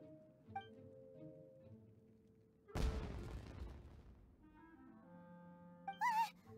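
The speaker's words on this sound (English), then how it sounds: "Was that an explosion? It sounded like fireworks." In Genshin Impact, fireworks go off as one sudden loud boom followed by a crackling, fading rumble, with sustained game music tones before and after and a short sharp burst near the end.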